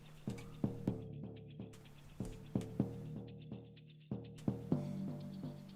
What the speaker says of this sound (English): It's a little bit of tuned percussion.